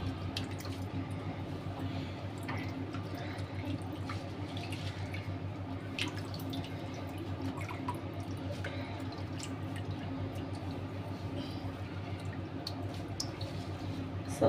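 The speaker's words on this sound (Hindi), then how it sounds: "क्योंकि इसका एक्स्ट्रा पानी जितना भी होगा सब निकल जाएगा।" Excess water drains from freshly washed vegetables in a kitchen strainer, with faint, scattered drips over a steady low background hum and no voices.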